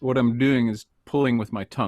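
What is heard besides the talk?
No distinct noise like a dog, phone or traffic.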